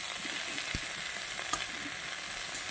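Broccoli frying lightly in a pan with oil, a soft, steady sizzle with a few faint stirring clicks, quiet and continuous with no voices.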